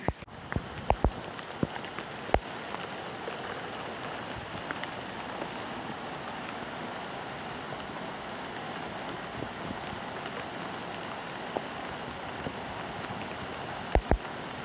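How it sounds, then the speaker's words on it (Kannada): Heavy monsoon rain and rushing water at Magod Falls in Uttara Kannada make a constant broadband roar, with scattered sharp drips and taps on top. "ಮಳೆ ಅಂತೂ ತುಂಬ ಹೆವಿ ಬರ್ತಾ ಇದೆ ಇಲ್ಲಿ"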